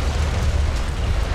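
A missile explosion in the War Thunder simulator, a low, rumbling boom that fills the short stretch as a steady, heavy roar with no voices.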